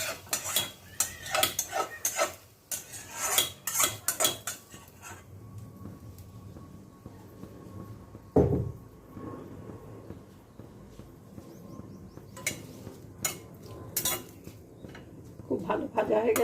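A cooking pot is set down on the stove and ingredients are tipped in while hilsa fish is prepared, giving a burst of loud metallic clanks and clatter, then a single heavy thud followed by quieter sizzling.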